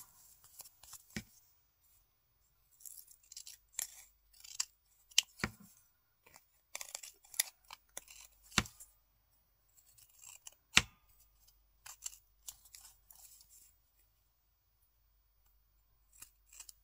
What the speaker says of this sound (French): On va venir couper l'excédent.